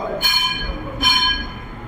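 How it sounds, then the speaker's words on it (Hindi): A class-end bell at a coaching class rings twice in close succession, each ring a bright, buzzing metallic burst lasting about a quarter second and sounding fairly loud and near, with no talking. "घंटी लग गई"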